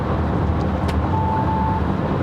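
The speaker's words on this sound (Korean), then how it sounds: "스포츠 모드로 전환을 해서 추월을 좀 해보겠습니다." Hyundai Staria Lounge hybrid, a 2024 seven-seat Inspiration, accelerates in sport mode to overtake on a highway: a steady, broad road and engine roar holds even and loud throughout, with brief faint ticks near the start.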